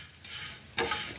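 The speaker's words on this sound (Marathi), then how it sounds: "असं भाजलं जातं तव्यावर" Dry kurdai crumbs roasting on a tawa griddle without oil, giving a soft scraping, rustling sizzle with a brief louder stir partway through, close and alone.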